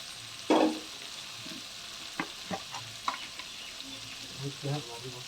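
Turmeric is stirred into food frying in a pan for a Bengali home-style dish, with soft scraping strokes and a few scattered utensil knocks over a faint, low sizzle.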